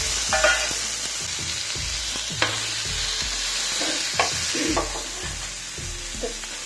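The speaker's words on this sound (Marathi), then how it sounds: "आपला कांदा परतत आलाय, आता आपण टमाटे घालणार आहोत त्याच्यामध्ये।" Sliced onions sizzle and sauté in a pan as tomatoes are added, with a steady frying hiss and repeated spatula scrapes and taps throughout.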